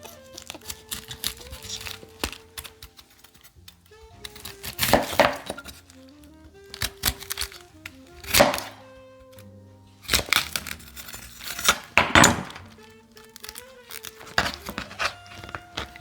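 A knife cuts a tough core out of a cabbage in several bursts of crunchy, crackling cutting separated by pauses, close and fairly loud, with small clinks and no speech.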